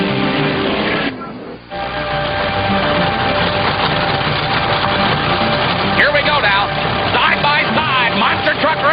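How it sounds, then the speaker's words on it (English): Monster truck engines rumble loudly at the starting line of a supercharged monster truck showdown, a steady roar with a brief dip before rising again, while an announcer talks over them throughout. "Monster Truck Racing. Here they come to the line, ladies and gentlemen."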